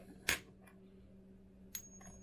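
A non-silver coin struck with another coin gives a duller pitch, two sharp close clinks about one and a half seconds apart, each followed by a faint lighter tap and only a short, thin ring.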